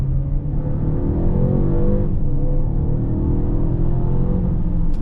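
A Mercedes GLB 250 SUV accelerating hard in sport mode, its engine a steady loud droning roar from inside the cabin with a brief dip near two seconds as the gear shifts, then climbing again.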